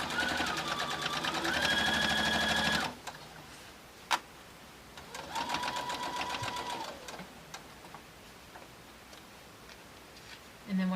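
A sewing machine stitching a quilted placemat tote bag runs in a steady whirring burst, stops, then runs again more softly, with scattered clicks and a voice talking between the runs.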